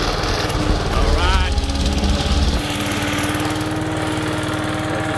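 A Briggs & Stratton 450E push lawn mower engine runs steadily and loudly close by in a garden, with a deep throbbing drone that shifts slightly partway through.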